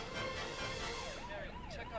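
A sheriff's patrol car siren wails in a rising and falling pattern, fairly clear over a dense background of music and sound effects, with faint voices mixed beneath.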